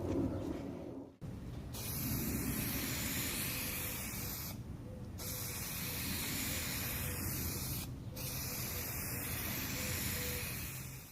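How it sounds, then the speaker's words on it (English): Plasti Dip aerosol spray can laying a slow, wet coat onto a grill, a steady close hiss held for several seconds at a time with two brief pauses between passes. "we're going to slow down our spray, and we're going to try to get an even finish"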